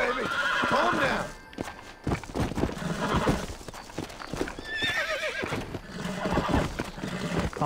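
In Red Dead Redemption, a malnourished horse gives repeated high, shaky whinnies, one near the start and more mid-clip, amid heavy stamping hooves and thuds, loud and near throughout.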